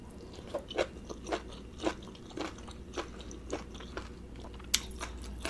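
Crunchy chewing of spicy beef tripe salad with vegetables, close and fairly quiet: a steady run of crisp bites and crunches roughly every half second, with no talking.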